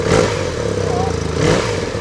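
A warmed-up engine fitted with an Akrapovic titanium decat header exhaust holds a loud, close, throaty drone, with brief swells of revving near the start and again just past the midpoint.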